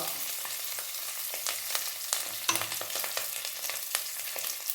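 Curry leaves and asafoetida fry in hot oil for kattae pongal, a steady close sizzle crackling with small pops throughout.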